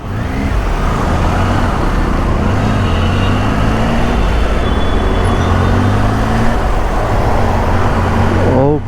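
Road traffic flows past while riding a Triumph Tiger motorcycle, a steady wash of engine and tyre noise with car and bus rumble throughout, a voice talking over it.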